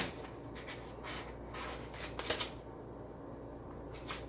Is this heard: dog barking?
no